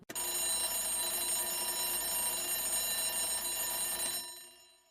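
An alarm clock rings with a bright, continuous metallic bell for about four seconds, close and alone, then stops abruptly.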